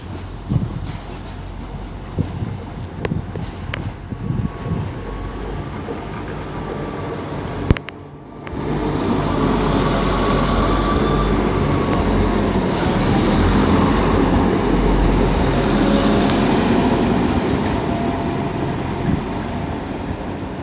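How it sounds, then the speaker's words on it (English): A Transport for Wales class 175 train pulls out of Shrewsbury station, a broad steady rumble that swells and holds after a few clicks and a short pause, heard from the platform with no talk. "All the doors are locked and it's on the move."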